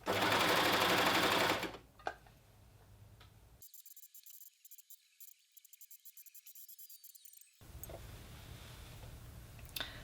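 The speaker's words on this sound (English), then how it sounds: "I'm just going to stitch away all the way around the hem" Sewing machine stitching around the hem of a tiered dress: a loud, dense whirring run for about two seconds, then a long quieter stretch of faint ticking clicks, with a soft mechanical hum returning at the end.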